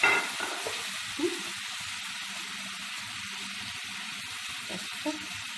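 Marinated fish poured into a hot kadai sizzles steadily, a broad hiss of frying with a few soft clunks and stirring knocks over it.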